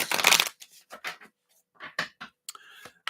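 A deck of tarot cards is shuffled by hand in a quiet room, with several brisk, papery riffles and taps coming in short bursts separated by silence.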